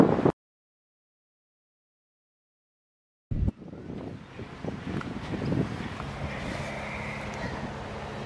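A steady southerly wind sweeps across a golf course at The Australian Golf Club, blowing as continuous buffeting noise against the microphone. It starts after a stretch of silence and stays fairly loud and constant.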